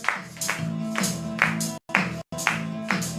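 Rhythmic congregational clapping to a church hymn, regular claps roughly every half second over sung music, with two brief dropouts midway.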